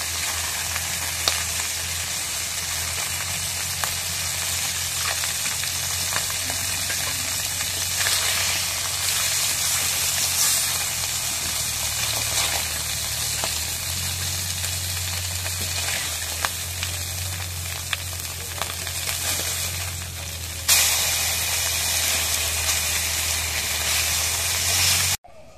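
Pieces of grass carp fry in hot oil in a pan for a country-style bottle gourd curry, giving a loud, steady, close sizzle with bright hiss and faint spatter that holds throughout without any talk.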